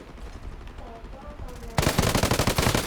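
Rapid automatic gunfire aimed at a car's tires in a video game, bursting in suddenly and loudly after a quieter stretch and continuing as a fast, dense rattle of shots, with a voice heard before the shooting begins.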